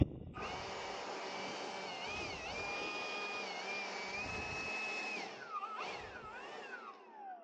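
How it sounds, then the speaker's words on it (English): A Milwaukee M18 cordless leaf blower gives a loud, steady motor whine with a rising and falling pitch for several seconds, then sputters and winds down briefly before cutting out near the end. "It's the Milwaukee M18, but it's the bigger one, the blower"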